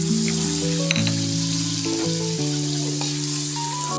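Butter melts and sizzles in a pan for a cordon bleu sauce, a close, continuous crackling fry heard alone for a few seconds, with a steady tonal hum running underneath.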